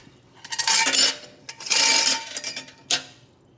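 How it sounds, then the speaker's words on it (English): Vintage metal hardware pieces are emptied into a kitchen sink, giving bright clattering metallic rattles in three bursts, the longest lasting about a second, with short pauses between them. "I'm going to empty these out in my kitchen sink."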